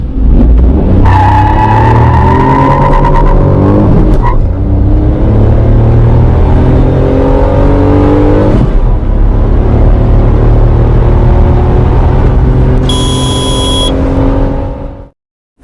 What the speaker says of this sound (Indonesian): 0 sampai 100 km per jam akselerasi dari Suzuki Espresso ini